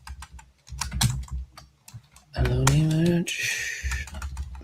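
Computer keyboard keys clatter in quick irregular bursts, near and fairly loud, with a stretch of voice and a sustained tonal sound partway through.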